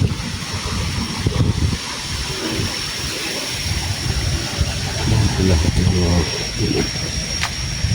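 A river winding through dense forest gives off a steady broadband rush of flowing water, continuous and fairly loud, with some low rumble and wind-like noise throughout.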